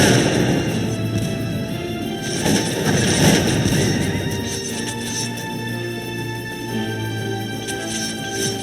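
Battle noise from the strategy game Cossacks 2, Poland against Russia: repeated crashing gunfire and booming cannon shots over a steady din of combat, loud and continuous throughout.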